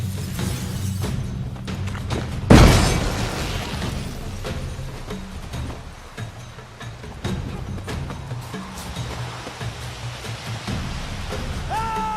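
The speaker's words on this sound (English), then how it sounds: "Throw a bomb." A bomb goes off in The Witcher 3 with one sudden, loud, shattering blast, followed by a crackling, rain-like patter of debris that fades into quieter background noise.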